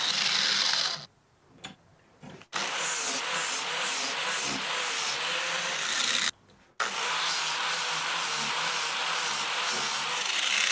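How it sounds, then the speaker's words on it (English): A 40 grit flap disc grinds an old, dull mower blade on an All American Sharpener, a loud, steady abrasive whir broken by two brief pauses before resuming. "I'm going to use this 40 grit flap disc to finish the process."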